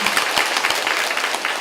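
An audience breaks into enthusiastic clapping, a dense, continuous patter of many hands at moderate volume, with a few sharper individual claps standing out near the start.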